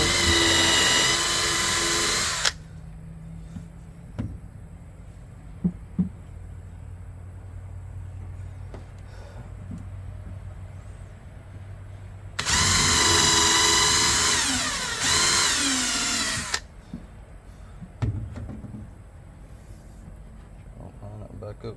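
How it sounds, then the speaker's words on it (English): A power drill bores a hole into a wooden bird house outdoors, its loud whine running in two bursts of a couple of seconds each, separated by quieter outdoor ambience with faint knocks. "let's drill a hole"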